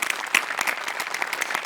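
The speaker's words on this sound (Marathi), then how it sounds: "प्रचंड टाळ्या" An audience applauds at a live comedy show taping, dense steady clapping filling the whole moment with no voices over it.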